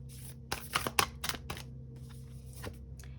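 Tarot cards are shuffled by hand close to the microphone, a quick cluster of crisp riffling snaps followed by a few softer taps, over a faint low hum.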